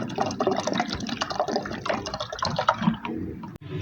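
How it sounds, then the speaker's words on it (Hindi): Water is poured into a pot of mixed moong and masoor lentils, a close, continuous gurgling splash for several seconds that stops abruptly near the end. "सबसे आखिर में इसमें शामिल कर दूंगी मैं पानी।"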